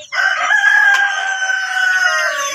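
A rooster from a native hen and Rhode Island Red cross on a Philippine chicken farm crows once in a long, loud, sustained call close to the microphone.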